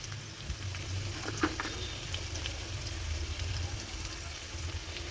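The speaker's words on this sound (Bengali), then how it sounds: "পেঁয়াজের সঙ্গে যখন আলুটা এইভাবে ভাজা হয়ে আসবে" Potatoes and onions fry in a pan, giving a faint, steady sizzle with a low background hum and a few soft stirring clicks.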